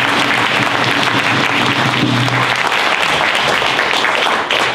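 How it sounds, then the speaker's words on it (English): Loud, dense applause fills the room as a state senator is welcomed to the podium at an evening event, a continuous roar of many hands clapping close by without a break. "Give him a big round of applause."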